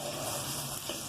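Onions frying in hot oil in a kadhai give a steady, soft crackling sizzle, a brief and even hiss at moderate volume with no voices.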